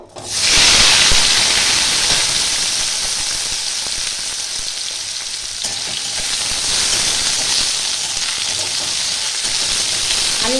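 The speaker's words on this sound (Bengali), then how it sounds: "একটু আমি লাল লাল করে ভেজে নেব আলুটা" Steady, loud sizzling hiss of potatoes frying in hot oil, continuous for the whole stretch with no voices.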